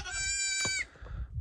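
Baby goats at a ranch bleating, a long, loud, wavering cry filling the first second, then quieter rustling and a few shorter calls close by.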